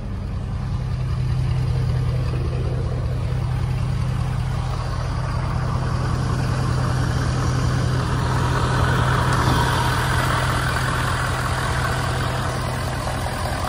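Ford F-250 King Ranch FX4 pickup with a 6.7L Powerstroke diesel engine idling, a steady low rumble that holds close and even throughout, with no talk over it.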